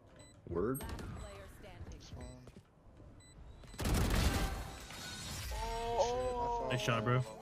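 Gunfire from the tactical shooter Valorant cracks out in a short, sharp burst midway, set among in-game clicks and other effects, while players chat over voice comms around it.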